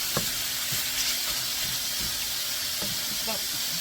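Chopped sausage browning in a frying pan, giving a steady, close sizzle with occasional soft scrapes and knocks from stirring throughout.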